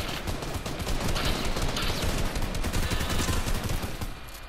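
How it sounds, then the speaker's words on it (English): Players shooting at each other from a mountain in Fortnite: dense, continuous rapid gunfire, loud and sustained with overlapping bursts and no letup, and no talking. "they're shooting from the damn mountain over there"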